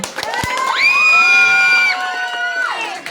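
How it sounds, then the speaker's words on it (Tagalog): A pageant crowd at the Muchaka Ng Fatima 2025 national costume segment erupts in loud, sustained cheering and high-pitched screams, swelling in the middle and easing toward the end. "maaari po ba akong manlimos ng palakpakan at hiyawan?"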